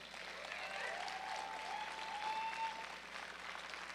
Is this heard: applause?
yes